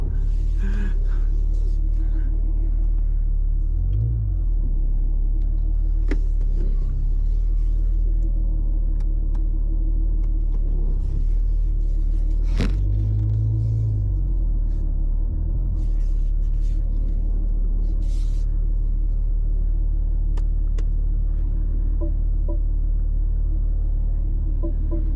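A 2025 BMW M3 driving on winding backroads at night in the rain: a loud, steady engine rumble fills the cabin throughout, swelling twice as the revs rise, with faint occasional clicks over the drone.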